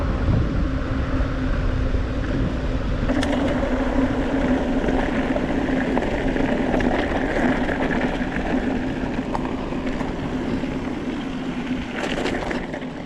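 Waterfalls rush beside a mountain bike trail near Silverton, a steady, loud broadband roar of falling water that fills the whole stretch without pause.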